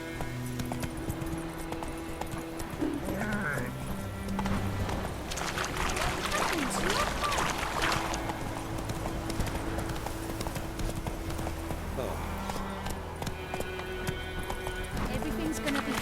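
Roach, the horse in The Witcher 3: Wild Hunt, gallops steadily with continuous hoof clip-clop under game music, with a brief whinny and voices talking at points.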